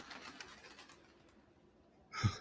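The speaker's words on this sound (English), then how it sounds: "Stupid bird, go away!" A bird, apparently a pigeon, gives one short coo near the end. It is fairly distinct against an otherwise quiet, faintly hissing background, with no voices.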